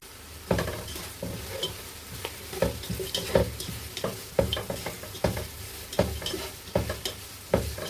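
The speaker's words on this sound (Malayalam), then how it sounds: "എണ്ണ ചൂടായി വന്നിട്ടുണ്ട്. അതിലേക്ക് കുറച്ച് ഉള്ളി ഇട്ട് വഴറ്റാം." Onions sautéing in hot oil for Thalassery chicken biryani, a steady sizzle punctuated by regular scraping knocks of a spoon stirring against the pan.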